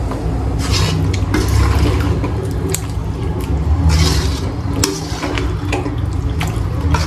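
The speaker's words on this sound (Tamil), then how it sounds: "அப்படியே மலை சாரல் மாதிரி தண்ணி ஊற்றிடுவோம்." Water poured into a chicken curry with coriander in a pot, a steady close splashing gush with bubbling and churning, fairly loud and continuous with no talk.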